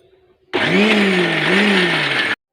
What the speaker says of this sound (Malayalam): ഇനി നമുക്ക് ഇത് ഒന്നുകൂടി അരച്ചെടുക്കാം.